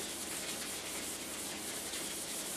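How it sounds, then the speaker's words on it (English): 400 grit wet-dry sandpaper rubs softly over a homemade clayboard surface in a steady, hissing scrape with faint back-and-forth pulses, close and continuous with no talking. "I got 400 grit sandpaper, like I was telling you, the wet dry"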